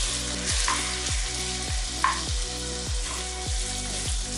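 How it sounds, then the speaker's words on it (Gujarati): Onions frying in a pan, sizzling steadily while a spoon stirs them with regular scraping strokes about every half second, close and moderately loud with no voices. "વચ્ચે વચ્ચે આપણે એમાં ચમચો ફેરવતા રહીશું જેથી કાંદા નીચે બેસી ન જાય"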